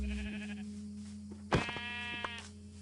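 Minecraft sheep bleat over a steady tonal game background. One clear, loud, wavering bleat stands out mid-way, with fainter ones around it.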